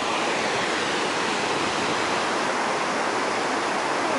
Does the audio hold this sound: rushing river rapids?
yes